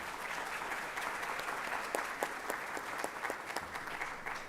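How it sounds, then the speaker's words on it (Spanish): Audience applause welcoming a speaker at a lecture on modern contract law, a steady wash of many hands clapping from a fairly distant hall, with a few sharper individual claps standing out near the end. "Aquí lo recibimos con fuertes palmas"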